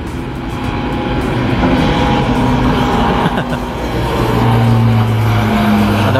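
A low-flying airplane passes overhead near an elevated toll road construction site, its engine roar building loud and steady with a droning hum, no talk.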